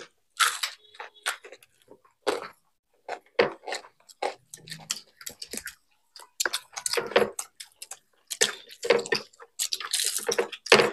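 Crunchy food being chewed during a mutton biryani, chicken biryani, panipuri and chicken cutlet eating challenge, with close, irregular bursts of crunching and biting separated by short silences.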